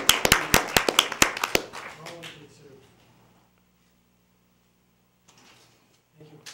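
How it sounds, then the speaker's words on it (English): Brief clapping from a small group at a school board meeting: about eight crisp, close claps in quick succession that quickly die away, followed by near silence and faint voices. "Yeah, big round of applause."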